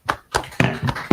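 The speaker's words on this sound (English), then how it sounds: "Clap it up." A few people clapping nearby, five quick sharp claps in an irregular rhythm, brief and close.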